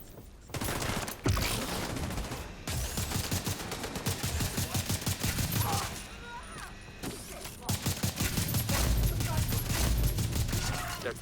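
Rapid full-auto bursts from a lightweight M4 rifle in the video game The Division 2, dense cracking fire running almost continuously with brief gaps, mixed with game effects and a voice speaking over it.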